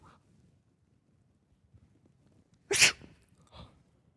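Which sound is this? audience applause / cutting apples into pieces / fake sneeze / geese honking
fake sneeze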